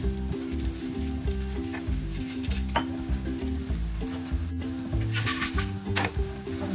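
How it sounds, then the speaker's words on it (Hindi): Oil sizzles steadily on a hot tawa as a chicken keema paratha fries. A loud, constant crackle is broken by occasional light metallic clinks of a utensil, and a low musical backing plays throughout. "एक साइड से सिकने के बाद इसे पलट लेंगे और अब इसमें लगा देंगे ऑयल।"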